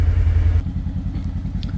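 A Polaris General UTV idles while warming up, giving a steady low engine rumble with a throbbing pulse that drops slightly in loudness partway through and then runs on evenly.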